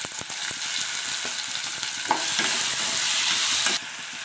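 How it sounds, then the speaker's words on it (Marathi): Chopped tomato and grated ginger fry in a pan, giving a continuous dense sizzle with frequent spoon scrapes and taps, then dropping suddenly quieter near the end. "1 टॅमॅटो चिरलेले ते सुद्धा टाकून व्यवस्थित असं फ्राय करून घेते।"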